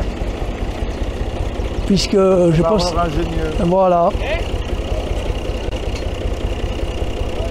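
A large water-cooled four-cylinder engine at a heavy-engine exhibition runs with a steady low idle rumble, while a voice speaks briefly and two rising whine-like tones are heard in the middle.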